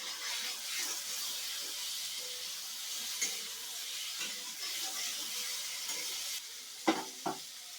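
Tomato masala frying in oil in a pan for a Bengali fish curry, a quiet steady sizzle with occasional stirring scrapes and two sharper clinks near the end, no talk.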